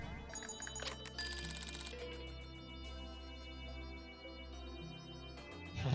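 A telephone rings in the video game Pikmin 3, heard as a bright repeating electronic ringtone over the game's steady background music, with no talk.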